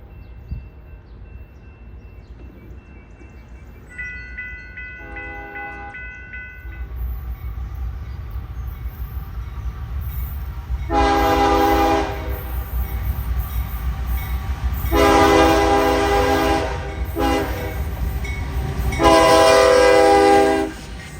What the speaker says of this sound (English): around the corner came our headlight, and surprise, surprise, another lengthy manifest freight